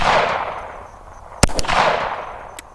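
A Glock 19X pistol fitted with an MCK conversion kit fires at a target 100 yards away outdoors, giving two quick sharp shots close together and a third a second later over steady background noise.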